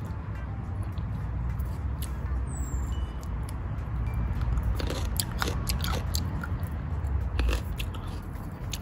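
Fresh star gooseberries picked from a backyard tree are bitten and chewed up close, with crisp crunchy bites and wet mastication repeating throughout.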